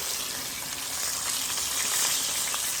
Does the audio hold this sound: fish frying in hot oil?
yes